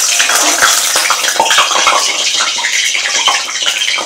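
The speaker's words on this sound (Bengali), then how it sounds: "এখানে মাছে হলুদ মাখিয়ে নিয়েছি, কড়াতে তেলও দেওয়া হয়ে গেছে। এবার মাছ ভেজে নেব," Turmeric-coated fish frying in hot oil in a wok, a loud close continuous hiss and spatter with dense crackling pops throughout, no talk.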